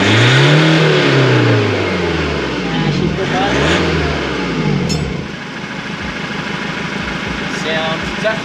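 Ford Ranger Raptor pickup with a straight-piped exhaust, its engine revving in loud rising and falling sweeps before settling to a steady, throaty idle close by.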